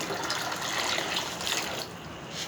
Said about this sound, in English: when I'm pouring the water in, it's actually making lots of bubbles